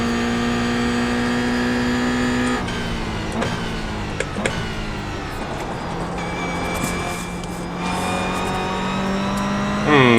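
Toyota GR86 race car in a racing video game, its engine holding a steady drone, then dropping and climbing through gear changes with rising revs, loud and close with no voices.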